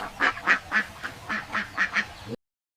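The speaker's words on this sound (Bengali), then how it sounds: "বাপু রাফি চল হাঁস মুরগির খাবার দেই" Ducks quacking at feeding time in a village, a busy, uneven series of about ten nasal calls, close by, before cutting off abruptly.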